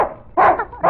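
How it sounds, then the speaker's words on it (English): A dog barks for candy, one loud, close bark followed by the start of a second, sharp and sudden against a quiet background. "he barks till he gets it"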